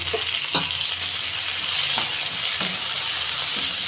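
Chopped tomatoes frying in oil for bitter gourd gojju, a steady close hiss of sizzling with a few light spoon knocks against the pan, no talking.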